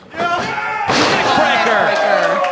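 A wrestler is driven into the mat with a neckbreaker during a junior heavyweight match in the NWA arena, one sharp slam landing partway through under a commentator's continuous talk and crowd noise.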